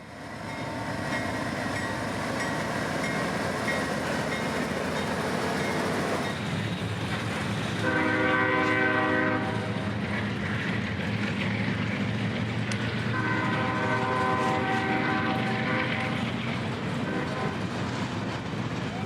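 CSX freight train 492 rumbles past close by with a steady, loud roar of rolling cars, and bursts of a horn-like tonal blast sound twice over the continuous noise.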